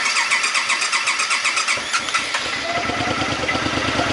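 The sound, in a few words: 2012 Suzuki Boulevard C50T motorcycle engine cranking and starting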